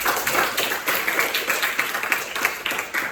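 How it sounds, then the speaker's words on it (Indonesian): A class of teachers and students in a computer accounting lesson claps together for a presenting group, dense uneven applause that keeps going for the whole few seconds. "Tepuk tangan dulu dong."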